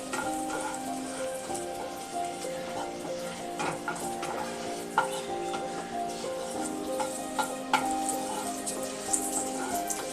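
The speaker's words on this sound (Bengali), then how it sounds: "এরপর আমি শুকনো লঙ্কাটা দিয়ে দিলাম। দিয়ে এবার একটুখানি আমি নেড়ে নেব 2-3 মিনিটের মতো।" Dried red chillies fry in a pan during a Bengali cream chicken preparation, a quiet crackling sizzle with a steady background hum and occasional sharp ticks and clinks of stirring, close and without talk.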